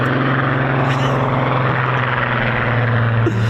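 A propeller aircraft powered by a Rolls-Royce Griffin engine roars past close by, a loud, sustained droning growl with a steady deep pitch throughout.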